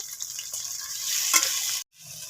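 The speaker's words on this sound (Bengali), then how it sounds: "পেঁয়াজটাকে মোটামুটি আমি তেলে মেরে নিয়েছি।" Chopped onions sizzle in hot oil in a pan while a utensil stirs and scrapes them, a close, steady crackle with brief scraping strokes that stops abruptly near the end.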